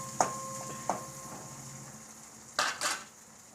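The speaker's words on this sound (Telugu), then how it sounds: "ఆనియన్స్ కొంచెం లైట్ బ్రౌన్ కలర్ వచ్చే వరకు ఇలా కలిపెడుతూ ఉందాము" Onions being stirred in a pan while frying to light brown for a curry: a few distinct clinks and scrapes of a utensil against the pan over a faint low sizzle, close and quiet, with no talking.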